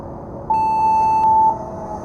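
A single clean electronic start tone for a drone race at a summer festival event sounds loud and steady for about a second before cutting off, with no voices.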